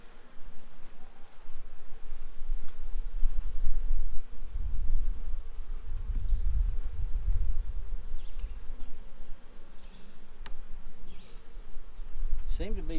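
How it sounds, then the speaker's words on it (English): Honey bees buzz steadily around an open hive during a backyard hive inspection, a continuous low hum that swells in the middle and stays close, with no talk over it. "Seem to be pretty gentle bees so far."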